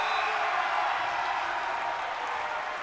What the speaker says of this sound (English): the Trojan student section loud and applauding the shot clock violation